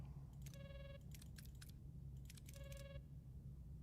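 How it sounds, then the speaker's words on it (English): A telephone rings in the Star Trek: Voyager - Across the Unknown video game: two separate bursts of bright, warbling electronic trills about two seconds apart, over a low steady hum. "Okay, that's just ringing and I can't pick it up."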